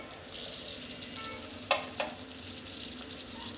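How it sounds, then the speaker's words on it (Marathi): Onion and tomato sautéing in a pan over a low flame for upma, a soft steady sizzle close up with two sharp utensil clinks in the middle. "टोमॅटो पण छान असा याच्यामध्ये परतून घ्यायचा"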